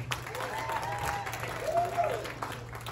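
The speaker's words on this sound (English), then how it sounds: "round of applause for Jonathan," Wedding guests applaud for Jonathan, a steady wash of clapping from a crowd filling the room at moderate level, with faint voices and cheers mixed in throughout.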